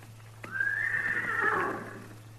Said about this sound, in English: That's his horse, too.